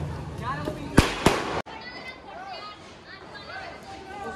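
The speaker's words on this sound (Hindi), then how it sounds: "इसमें रॉकेट चला के छोड़ दो।" Two sharp cracking bangs close together, then distant whistling rockets and scattered firecracker pops under a murmur of people talking outdoors during a Diwali celebration.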